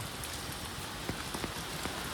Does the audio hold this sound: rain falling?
yes